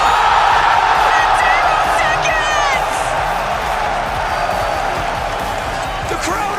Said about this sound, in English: The crowd erupting.